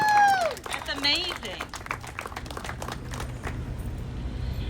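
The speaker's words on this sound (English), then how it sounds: "Another round of applause." A crowd at an outdoor Portuguese flag-raising ceremony claps in a dense patter of many hands, with cheers and voices near the start, then the applause thins into scattered clapping.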